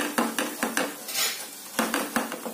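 Lemon pickle being stirred in a pot with chili powder, coriander powder, salt, garlic and turmeric, a spoon scraping and clinking against the metal in repeated strokes, close and clear with no talk.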